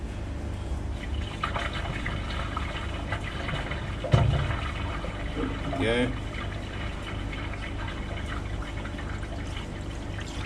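A toilet flushes water and toilet paper down into the drain in a surge of rushing, gurgling water that peaks midway, while someone talks over it.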